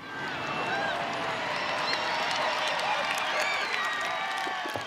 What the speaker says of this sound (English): let's turn right now and give them a huge round of applause